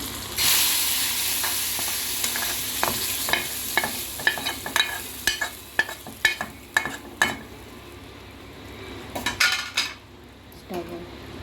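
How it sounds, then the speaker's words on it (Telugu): Hot tempering poured into palakura pappu, a spinach and lentil dal, hisses in a loud sizzle, then a spoon scrapes and clinks against the metal pot in a run of sharp, irregular knocks while it is stirred. "పోపు అంతా పప్పులో పోసి కలుపుకోవాలి"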